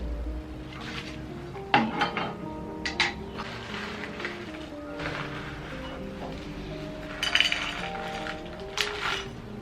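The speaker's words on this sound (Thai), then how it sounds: "นี่เราก็เอามาล้างแก้วพวกนี้" Small tea cups from a tea-brewing set clink against each other and a pot while being rinsed, with scattered light ceramic knocks and taps over a steady background, a few louder clinks standing out.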